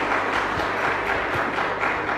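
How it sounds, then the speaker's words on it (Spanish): Congregation at a Catholic mass for the Solemnity of the Immaculate Conception, Virgin of Caacupé, applauding, a dense and steady clatter of many hands filling the church at moderate loudness, with no voices over it. "Fuerte aplauso entonces"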